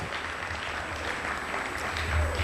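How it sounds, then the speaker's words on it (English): A banquet audience claps for award recipients at a 2013 academic and athletic awards event, a continuous, moderately loud patter of many hands that holds steady and swells slightly near the end. "One more round of applause for those recipients, please"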